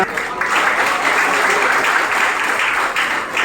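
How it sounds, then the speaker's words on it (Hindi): Children applauding at a ceremony felicitating NEET exam toppers, a dense continuous wash of clapping at full strength throughout the short stretch. "सारे बच्चों तालियां रुकनी चाहिए"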